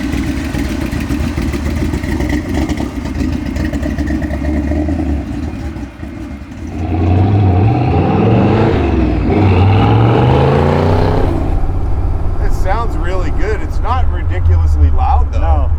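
A murdered-out '33 Ford hot rod built from a Factory Five kit drives with a loud, rumbling engine that revs up hard midway, staying close and strong throughout.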